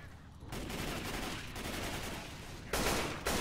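Left 4 Dead gunfire: steady, fairly loud rattling shots fill the whole stretch, with heavier bursts near the end.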